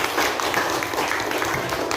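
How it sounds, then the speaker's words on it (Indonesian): Schoolchildren clap together in a Grade 6 classroom, a brisk, even burst of close hand claps that fills the moment with no talk over it. "Tepuk tangan."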